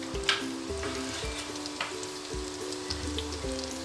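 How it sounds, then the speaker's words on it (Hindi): Chana samosas sizzle and crackle steadily in hot oil over a medium flame, a close, continuous frying hiss with occasional louder pops. "हमने दो से तीन मिनट तक इसको मीडियम फ्लेम पे फ्राई करना है"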